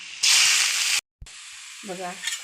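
Green chillies and ginger hit hot oil with a loud sizzle for under a second, then a brief gap and a quieter steady frying hiss, with a short voice-like sound near the end.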